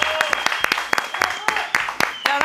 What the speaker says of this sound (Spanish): un aplauso grande a Marcio Valverde